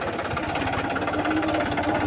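A tractor engine runs steadily throughout, a close, continuous low rumble with a mid-range chugging texture and no break in the drone.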